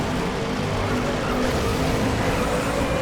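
Video game car drifting and skidding in Cars: Race-O-Rama, a steady engine roar with sustained tire squeal throughout, loud and continuous.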